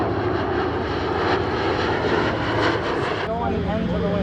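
A WWII Corsair warplane's radial engine roaring on its takeoff roll at an air museum event in Reading, PA, a loud, steady, close drone that thins slightly toward the end, with a voice speaking over it.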